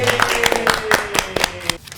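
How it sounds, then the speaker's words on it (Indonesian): A small audience clapping hands in a podcast studio, a rapid train of sharp claps over about two seconds with a faint voice and tones underneath, tapering off at the end. "Tepuk tangan dong."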